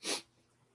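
One sharp, close sneeze bursts out loudly, then fades into quiet room tone.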